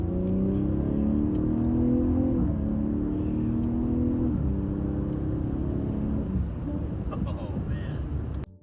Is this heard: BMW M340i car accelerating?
yes